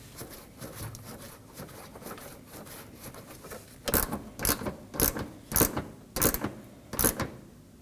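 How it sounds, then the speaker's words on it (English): Corner 10mm bolt reinstalled near the fender liner of a 2015–2023 Nissan Maxima, heard as a close, soft run of ratchet clicks followed by several louder, evenly spaced ratcheting strokes. "we can reinstall our corner 10mm bolt"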